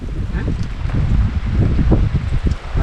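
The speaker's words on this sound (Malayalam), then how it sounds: "പടിഞ്ഞാറിൽ നിന്നാണ് കാറ്റടിച്ച് മഴ പെയ്യുന്നത്" Heavy rain driven by wind from the west at a hilltop temple, a loud, dense rushing roar with gusty buffeting against the microphone, steady and close throughout.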